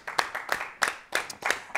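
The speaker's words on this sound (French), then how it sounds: "On l'applaudit, s'il vous plaît." Audience applause welcoming a guest onto a French-language talk show set, heard as a short burst of about six separate claps, fairly sparse and near, with no voices.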